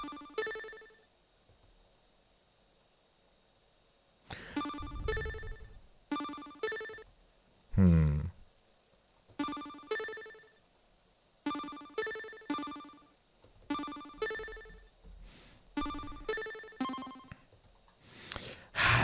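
A chiptune-style synth telephone ringtone, bright bursts of electronic trilling in repeated groups with short gaps between them, loud and alone.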